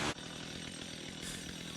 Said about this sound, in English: Let's fire up a chainsaw and let's just start making this thing.